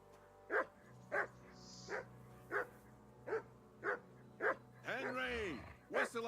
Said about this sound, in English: whistle at that mutt of yours to stop barking